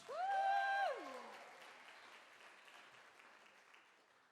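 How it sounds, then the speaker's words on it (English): An audience applauds a band at a live rock competition, broad clapping that begins under a loud sustained vocal whoop, then fades gradually into a thinning patter. "Let's give a big round of applause"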